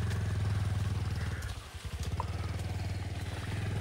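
A motorcycle engine runs steadily at a low, throbbing pitch while riding a slippery, muddy road toward the Kathmandu Valley, briefly dipping midway before rising again, loud and close throughout.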